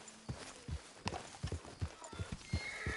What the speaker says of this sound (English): Hey, careful with that horse!